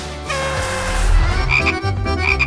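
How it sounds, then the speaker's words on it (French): A frog croaks inside a box, a loud close croak with several pulsing calls that repeat over a low rumbling background. "Regardez, une grenouille dans une boîte."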